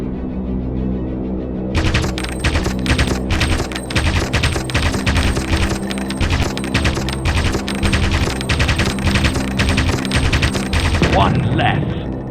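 Rapid machine-gun bursts fired at an enemy aircraft in the aviation video game Aviators, loud and close, a dense sustained rattle over a steady engine drone, ending with a short tonal flourish.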